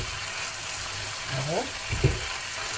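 Chicken pieces for Cajun chicken frying in oil in a pan, a steady hiss of sizzling with a short spoken word and a brief clink of a utensil near the end.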